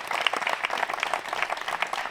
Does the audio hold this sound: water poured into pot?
no